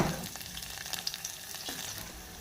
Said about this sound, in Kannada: ಎಣ್ಣೆ ಬಿಸಿ ಆಗಿಬಿಟ್ಟೈತ್ರಿ ಹಾಗಾಗಿ ಇವಾಗ ಸ್ವಲ್ಪ ಉಳ್ಳಾಗಡ್ಡೆ ಹಾಕೊಳ್ಳೋಣ ಉಳ್ಳಾಗಡ್ಡಿ ಎಣ್ಣೆದೊಳಗೆ ಫ್ರೈ ಆಗಿ